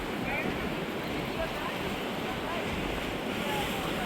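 Steady, loud wind buffeting a microphone on a lakeside pier at Toronto Island, a continuous broadband roar with no pauses.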